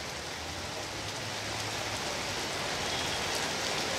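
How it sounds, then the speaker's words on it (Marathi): Heavy rain pours down steadily on a flooded street in the Sion and Wadala area, a dense, even hiss of drops with a faint low hum beneath and no talking. "पाऊस अगदी कालपासून जो लागलेला पाऊस आहे अजूनही थांबायचं नाव घेत नाहीये"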